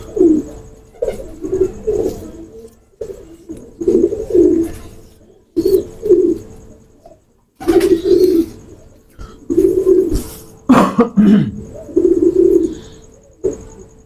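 Teddy pigeons cooing close by in repeated throaty bursts, each coo roughly a second long, coming in a steady rhythm with brief pauses and a faint high tone running behind.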